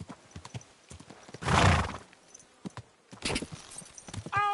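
In the medieval video game Kingdom Come Deliverance 2, a horse lets out a loud, drawn-out whinny, with clip-clopping hooves tapping before and after it, and no voices.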